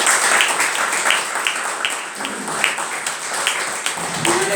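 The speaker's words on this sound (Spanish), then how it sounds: "le damos un aplauso" A church congregation gives applause, a dense wash of clapping that fills the room and continues steadily at moderate loudness.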